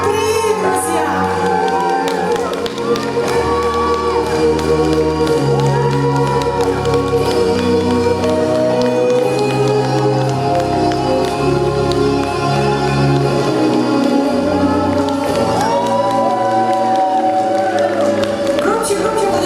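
Audience at a song contest final applauds and cheers steadily and loudly for a local ensemble winning the grand prix, with music and talk running underneath throughout.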